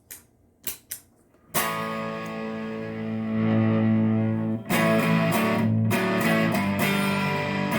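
Electric guitar run through a King of Tone overdrive pedal with the right side set to full distortion: a few muted plucks, then loud, sustained distorted chords ringing close up, alone.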